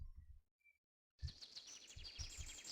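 Synthetic bird calls in the Adibou computer game: after a few soft thumps and a short silence, a quick run of bright chirps repeats over low rhythmic taps.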